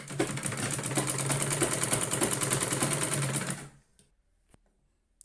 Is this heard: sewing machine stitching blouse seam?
yes